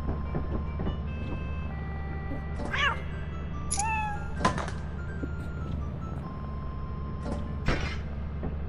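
A cat in the modded video game Lethal Company meows several times, clear and close, with a rising then falling cry in the middle, over a constant low game drone and faint chiming tones.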